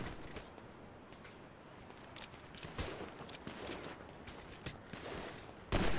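Bursts of rapid gunfire from GTA V, sharp cracks and rattling volleys scattered over a dense noisy background, fairly close, ending with a loud final burst; no speech heard.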